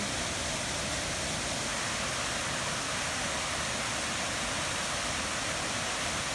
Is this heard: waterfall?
yes